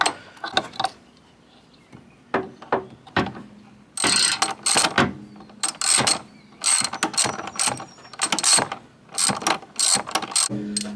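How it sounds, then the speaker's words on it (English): A ratchet wrench with a swivel-head socket clicks while backing out blower motor bolts on a Chevy S10, giving loud close bursts of rapid ratcheting separated by short pauses, with no talking. "we went ahead and got a swivel extension, swivel head socket for these last couple ones here"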